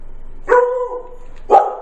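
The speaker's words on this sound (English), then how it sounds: "Oh, there's the dog." Luna, a dog, gives two short, close barks about a second apart, the first stretching into a brief yelp; nothing else sounds between them.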